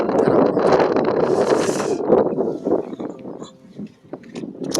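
Wind gusting on a hiking trail on Yeonhwado island near Tongyeong, a steady loud rush buffeting close to the microphone that eases slightly toward the end.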